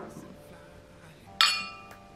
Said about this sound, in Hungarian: Kocincsunk.